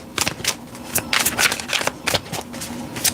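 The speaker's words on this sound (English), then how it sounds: "Shuffling for Cancer." Tarot cards being shuffled by hand during a reading, a quick series of crisp riffling and slapping bursts, close and fairly loud, with a faint steady hum underneath.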